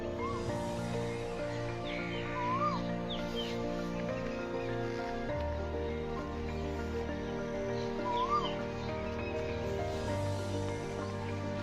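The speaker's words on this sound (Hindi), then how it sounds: "और कुछ चिड़ियों की आवाज आ रही है और बहुत से परिंदे हैं जो दरख्तों की रौनक होती है।" Several birds call and chirp in village trees on an early morning walk, a few clear short calls standing out over a steady hum of other sound, moderately near with no talking.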